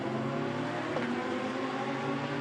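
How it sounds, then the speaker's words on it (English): A BMW race car in a Shanghai 8-hour endurance race, its engine running rough and ill-sounding, holds a steady, dense mechanical drone with no voices over it. "That is a very ill-sounding BMW indeed."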